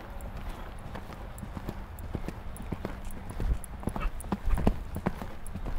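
A ridden horse walks in a riding arena, its hooves clip-clopping in a steady, fairly close rhythm, with an instructor talking in French over it.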